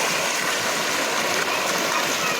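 Water rushes loudly in a constant, dense roar, like a swollen stream surging past close by.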